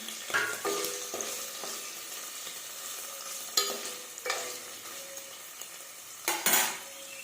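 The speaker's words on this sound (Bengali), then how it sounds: "বাকি যে পনিরগুলি ছিল এগুলো আবার কড়াইতে ছেড়ে দিল ভাজার জন্য" Paneer pieces fry in oil in a kadai with a steady sizzle, while a spatula stirs and scrapes the pan with a few sharp metallic clinks close by.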